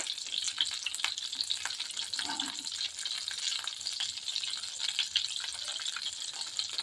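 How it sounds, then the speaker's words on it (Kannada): Butter melts and fries in a pan while making restaurant-style tomato soup, giving a continuous soft crackling sizzle with scattered light ticks and occasional stirring, heard close up without talk. "ಬೆಣ್ಣೆ ಹಾಕಿದ್ದೀನಿ ಈಗ ಇದು ಬೆಣ್ಣೆ ಕರಗಿದ ನಂತರ ಇದರಲ್ಲಿ ನಾವು ಮಸಾಲೆ ಹಾಕೊಳ್ಳೋಣ"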